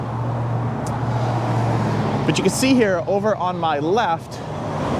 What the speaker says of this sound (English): I don't know if you can hear it or not, but Galen Street is a major thoroughfare